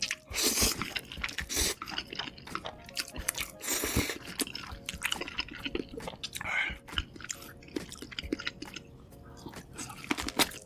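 Close, crisp crunching and wet chewing from someone eating crunchy fried chicken and instant noodles, steady bites and squishy mouth sounds filling the whole stretch, with no talking.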